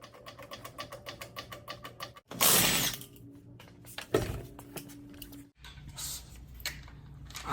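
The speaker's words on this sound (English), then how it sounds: "I'm gonna take these bolts off first, and I'm gonna be using the Earthquake XT, the little stubby, on a 21mm swivel socket" Earthquake XT stubby impact wrench on a 21mm swivel socket backing off hub bearing bolts on a 2015–19 Ford F-150 4WD, with rapid rattling hammering, a loud burst midway and ratcheting clicks, close and without talk.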